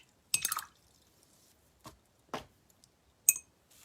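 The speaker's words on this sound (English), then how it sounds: "Okay, then I'm going to wash my brush." A wet paintbrush rinsed in a cup of water between painting strokes: a few brief separate splashy swishes and drips, quiet and close, with silence between them.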